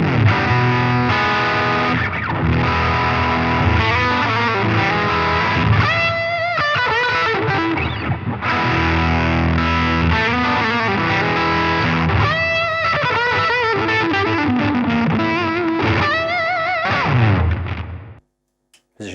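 Heavily overdriven electric guitar through an MXR Timmy overdrive pedal with gain at full, playing loud sustained distorted chords and riffs continuously for about eighteen seconds before cutting off, with no talk.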